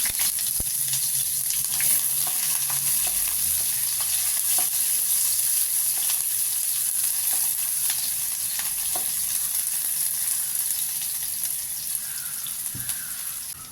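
Chopped onions sizzle steadily in hot oil for chicken keema vadacurry, a bright continuous crackle with occasional scrapes of stirring, close up and with no talking.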